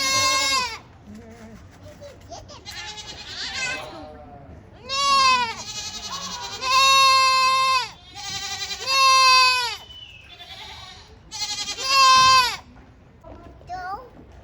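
Goats, including a small baby goat, bleat at a petting area in a Pigeon Forge rainforest attraction, giving several loud, wavering cries close by, with people talking around them between the calls.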